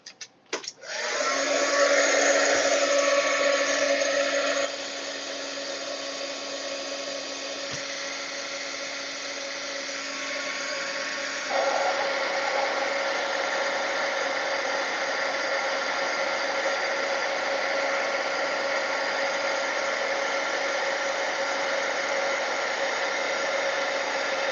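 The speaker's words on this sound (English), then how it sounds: "what I'm going to do is I'm going to heat emboss this." A heat gun blows hot air to heat emboss a stencil, a loud, steady whirring roar that starts abruptly and holds for over twenty seconds, with a slight shift in pitch partway through; no talking.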